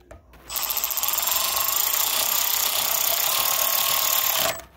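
A fastener is driven tight on the charging coil of a 6.5 HP small engine. A steady mechanical whirr runs for about four seconds, close and moderately loud, then cuts off abruptly.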